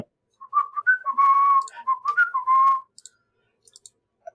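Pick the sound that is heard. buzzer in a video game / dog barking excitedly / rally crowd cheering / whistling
whistling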